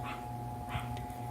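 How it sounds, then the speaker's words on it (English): Dogs in the background give a couple of muffled barks and soft whimpers under a steady hum, faint and fairly distant. "I'm sorry for my dogs in the background."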